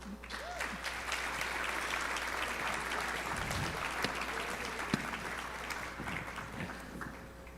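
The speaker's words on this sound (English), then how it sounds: "Big round of applause" Sustained applause from a large conference audience after a panel discussion, dense and steady throughout, with no voices rising above it.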